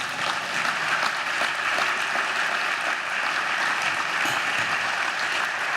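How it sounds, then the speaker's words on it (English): Sustained, dense applause from a speech audience, loud and steady throughout with no voices over it. "I think you should applaud"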